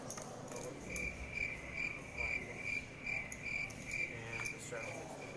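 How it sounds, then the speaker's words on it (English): A cricket chirps in a steady repeating pulse, clear and continuous against quiet background noise. "Cricket's alive and well."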